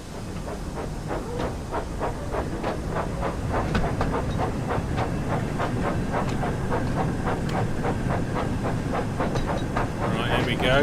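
A steam locomotive in the Thomas & Friends: Wonders of Sodor game chuffs along steadily with rhythmic exhaust beats over a constant hiss and rail clatter, loud and close throughout.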